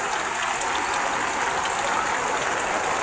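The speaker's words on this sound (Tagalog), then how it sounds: "lakas ang ulan dito ngayon" Heavy rain pours steadily at sea, a dense, even broadband hiss that stays loud and unbroken throughout with no voices.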